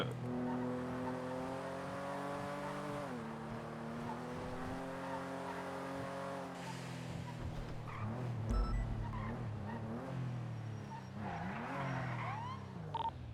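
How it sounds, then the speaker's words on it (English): Street-racing cars in the NoPixel roleplay game produce a steady, droning engine note that rises and falls as they rev and shift, with brief tire squeals and skids mixed in. "Oh no, Davenport's found a street race."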